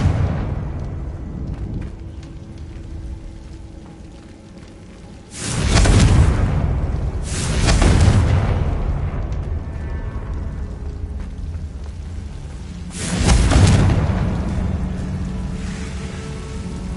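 Blasting-spell explosions in a Harry Potter game: three loud, booming bursts, each with a rumbling decay, separated by a few seconds over continuous background noise.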